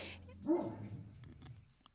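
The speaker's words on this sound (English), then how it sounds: "they bark again" A dog gives a couple of short, muffled barks and whimpers at moderate distance, quiet and intermittent, with no talking over them.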